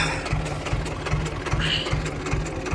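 A farm tractor idles during ploughing, a close, steady low engine chug with regular pulsing knocks, and a faint voice in the background.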